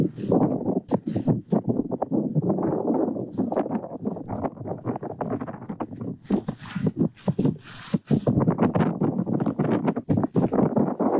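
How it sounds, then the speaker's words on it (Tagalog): Steady wind buffets the microphone with a loud, rumbling roar and gusty bursts throughout, with faint knocks and movement underneath. "Parang naman ang hangin."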